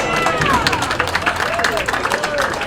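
Cheering and clapping from a lively crowd at a candlepin bowling match in a hall, a steady roar of voices and applause right after a spare, filling the whole stretch.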